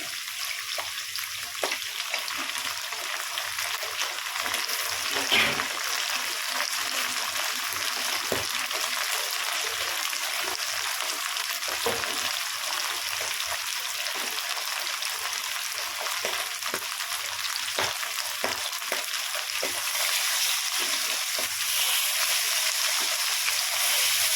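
Food frying in fish oil gives a continuous close sizzle with scattered crackles and occasional stirring scrapes, steady and moderately quiet throughout with no speech.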